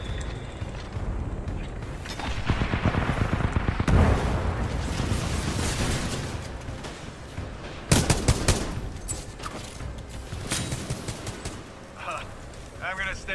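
Rapid bursts of gunfire fill a Live Fire match in a shooter game, with sharp volleys and heavier blasts in quick succession, loud and dense throughout, while a voice talks over the action.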